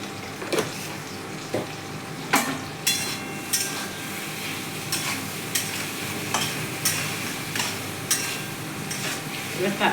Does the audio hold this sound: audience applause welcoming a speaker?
no